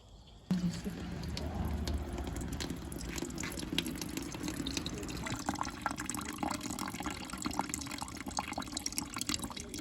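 Apple juice from a handmade cider press trickling through a cloth strainer and a hole in the tray into a pitcher, a continuous close splashing and dripping trickle that starts abruptly and runs steadily.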